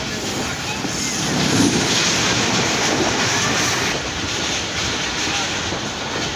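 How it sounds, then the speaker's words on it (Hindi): Passing train roaring by at close range, a loud steady rumble with faint wheel clatter holding throughout, nearly uniform in level from start to end. "बीच में ट्रेन आ गई थी"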